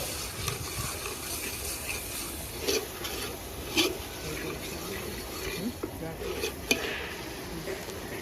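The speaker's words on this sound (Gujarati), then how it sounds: "ટમેટાની ગ્રેવીને આપણે એકદમ ધીમે ધીમે મિક્સ કરી લઈશું" A spoon stirs thick tomato gravy with oil-fried garlic in a pan for Kathiyawadi sev lasan nu shaak, giving soft wet scraping and light sizzle with a few sharper clinks of metal.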